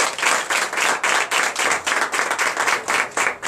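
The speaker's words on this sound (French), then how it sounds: "Donnez l'acclamation à notre Seigneur Jésus." A church congregation in Comè, Benin claps in unison, a loud, regular rhythmic beat of roughly three claps per second, sustained throughout without speech.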